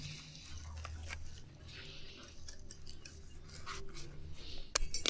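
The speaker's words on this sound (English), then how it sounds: "Oh yeah, of course they can. They're steel cutters, huh?" Steel cutters snip through fence wire outdoors, with quiet scraping and handling, then a sharp metallic clip near the end.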